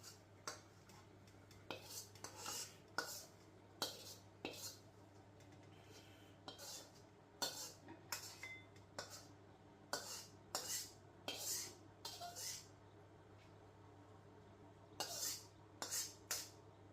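Egg fried rice is plated with light, close clinks and scrapes of cutlery against dishes in uneven bursts over a quiet, steady hum, and nobody speaks.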